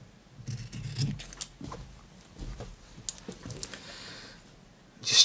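Scissors trimming fabric for a bow tie, giving soft, close snips and rustling cloth in an irregular pattern, with a brighter crisp cut near the end.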